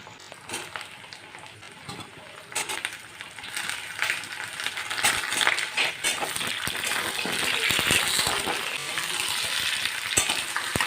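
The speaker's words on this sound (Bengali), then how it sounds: "আলু আর পেঁপেটা দিয়ে আমি এখন একটু ভালো করে লাল লাল করে ভাজা ভাজা করে নেব" Potato and papaya chunks frying with browned onions in a pan for a Bengali mutton curry, a steady close sizzle building louder, with occasional stirring scrapes and clicks throughout.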